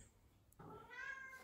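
A house cat gives a single soft, drawn-out meow, close by and quiet against a faint room hush.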